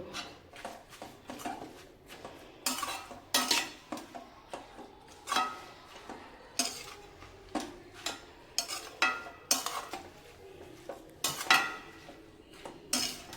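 Greens and peanut curry stirred in a pan, a close, irregular run of spoon clinks and scrapes against the metal over a faint sizzle, repeating throughout with no talking.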